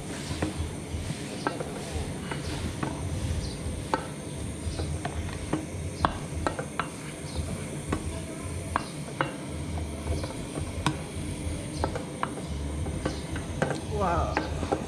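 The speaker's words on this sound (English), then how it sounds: "You have to stir it so that it can mix" Ugali being stirred in a pot in Kenya, a continuous run of close scraping, knocking strokes and utensil clatter at an uneven rhythm, with faint talk now and then underneath.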